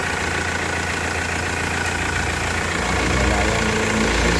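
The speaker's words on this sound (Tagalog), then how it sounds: "Ito ang engine ulit." A 2013 Foton Thunder pickup idles with a steady low rumble and mechanical hum, running evenly throughout and growing slightly fuller near the end.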